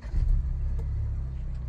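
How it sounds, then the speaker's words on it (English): A Ford Bronco engine starting: a low rumbling start that settles into a steady idle right away, close by and filling the short stretch with no talk. "I'm going to start the car."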